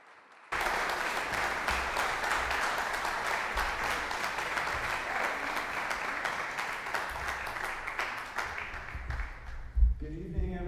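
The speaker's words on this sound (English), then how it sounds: "Let's give Urban Voices Project a thunderous round of applause right now." An audience at a charity gala applauds a choir with steady, sustained clapping and cheering that starts abruptly and holds for about ten seconds, with a voice coming in at the very end.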